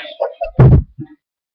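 A door in a busy family home takes one heavy, close thud, loud and brief, with a few short vocal sounds just before it.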